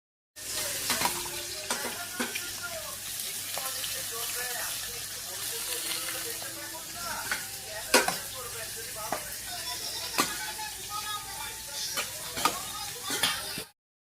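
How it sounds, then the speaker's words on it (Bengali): A large boal fish fries in hot oil with a loud, close, constant sizzle. Bursts of spatter and repeated sharp clicks of a utensil turning and stirring break through it. "ঢাল তরোয়াল দিয়ে মাছ ভাজতে হলো, প্রচণ্ড পরিমাণে ফুটেছে"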